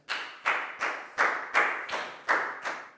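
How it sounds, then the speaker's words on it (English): A class of Year 4 pupils claps together for a classmate in an English lesson, eight crisp rhythmic bursts of group clapping spaced about every third of a second, close and moderately loud. "a big round of applause for Pak Bung, please, guys"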